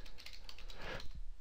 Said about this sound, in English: I hope I'm typing it correctly